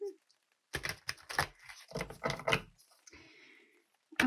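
Tarot and oracle cards shuffled by hand in a series of quick riffling, tapping bursts, close and moderately loud, followed by a softer rustle and a brief sharp click at the end; no talking over it.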